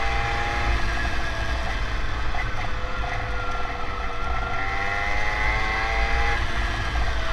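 A Puch 65cc moped accelerating, its engine note rising steadily and loud with a continuous buzzing drone and climbing whine close by.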